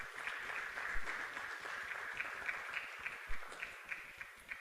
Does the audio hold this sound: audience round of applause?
yes